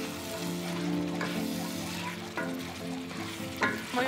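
Carrots, parsley root and celery root frying and being stirred in a pot with roasted chicken breast for a Bosnian okra stew, a steady close sizzle broken by a few sharper scraping stirs, with no talking.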